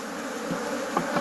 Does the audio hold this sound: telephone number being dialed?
no